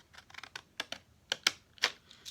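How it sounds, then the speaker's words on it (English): Decorative edger scissors with a Victorian-pattern blade cutting through paper, heard as a quick series of crisp, close snips and clicks in an irregular rhythm, with a few louder cuts standing out. "I like to kind of like go in here and kind of cut."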